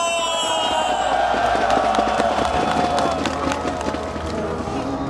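Large outdoor crowd at a political rally in Seoul, a continuous loud roar of clapping and cheering voices with scattered claps, steady and dense for the whole stretch.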